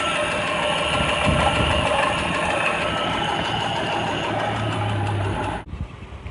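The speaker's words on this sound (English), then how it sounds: "Alternator sounds good too." A 1989 Jeep Cherokee engine with a new alternator and a slightly loose belt runs steadily at idle, close and constant, with a faint whine and light rattle before it cuts off near the end.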